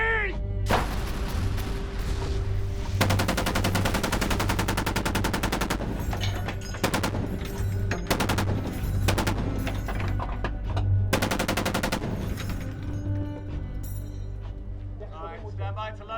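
A battle scene from the TV show Special Ops: Lioness, with loud, dense gunfire and machine-gun bursts rattling almost nonstop and brief lulls, while voices shout over the shooting.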